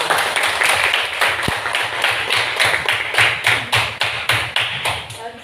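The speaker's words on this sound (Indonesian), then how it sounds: "tepuk hebat dulu untuk kelompok 1" A group claps in a steady, rhythmic pattern of sharp claps, loud and close, repeated evenly throughout.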